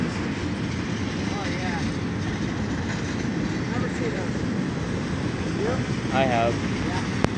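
A BNSF intermodal freight train pulled by four engines rumbles past in a steady, loud wash of rolling cars and wind, with brief voices and a few faint squeals over it.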